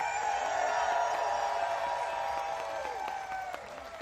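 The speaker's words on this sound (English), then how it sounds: "Take a look at this huge crowd right here in our nation's capital." A huge crowd at a No Kings protest applauds and cheers in a dense, sustained roar of clapping and shouting that slowly fades over several seconds.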